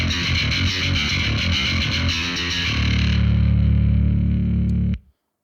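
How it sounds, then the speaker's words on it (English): A heavily distorted bass guitar, run through Reaper's free distortion plugin into an amp sim, plays a gritty riff, then holds a thick sustained note before cutting off abruptly. "I'm gonna try using Reaper's free distortion plugin on the front end of the signal going into this"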